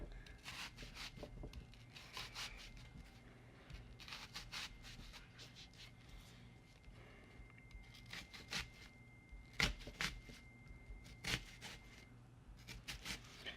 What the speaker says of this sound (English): how I like to cut an onion is you're going to go ahead and you're going to cut some vertical slits in the onion this way